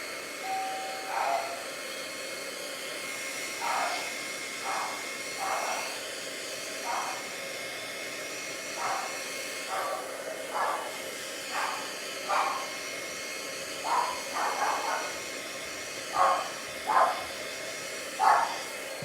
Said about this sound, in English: And then I'm going to grab my heat gun.